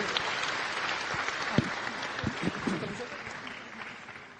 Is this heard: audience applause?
yes